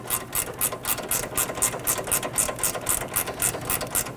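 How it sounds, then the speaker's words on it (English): GearWrench ratchet driving in a control arm bolt on a Dodge Charger front suspension, a quick run of rhythmic clicking strokes, about three per second, close and steady throughout. "I'm just throwing my gear wrench on there to go ahead and start to drive that in"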